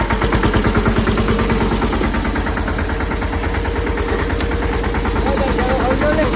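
A tractor engine chugs steadily at close range while being driven, its low, rapid rhythmic thumping holding loud and even throughout, with faint voices in the background.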